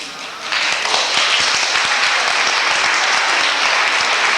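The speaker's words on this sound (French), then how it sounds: "c'est vous qui allez les applaudir." Applause at a blood donors' general assembly, a dense roll of many clapping hands that swells in after a brief quieter moment and then stays loud and steady.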